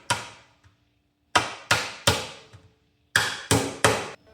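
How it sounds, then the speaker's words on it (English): Tiny tacks being hammered to fix leather onto a Viking shield: a series of sharp, close metallic-wooden taps, one after a pause, then three in quick succession and another quick trio. "nailing these super tiny things"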